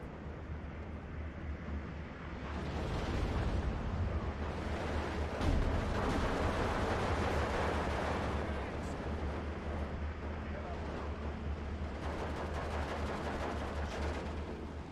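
Bombs bursting on a battlefield in Steel Division 2, heavy rumbling blasts rolling into one another over a deep low drone, loud and sustained, swelling and easing in waves.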